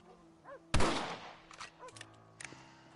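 A rifle shot in the video game Red Dead Redemption: one loud, sharp crack with a short decaying tail, then quieter knocks and clicks, with faint game music underneath.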